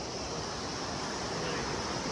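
A flowing stream near rice paddies being crossed on foot: a dense, continuous rush of water, loud and close, filling the whole brief moment.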